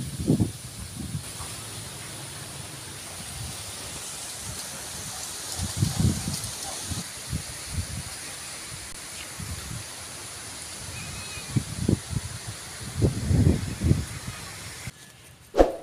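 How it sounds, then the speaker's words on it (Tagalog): Steady breezy hiss of wind moving through leaves, with gusty low rumbles and rustling swells that come and go throughout. "Napakalakas ng hangin."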